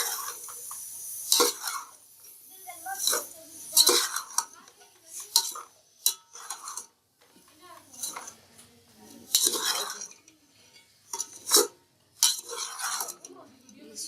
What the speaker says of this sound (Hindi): चनों को भून के फिर हम इसमें इमली शामिल करेंगे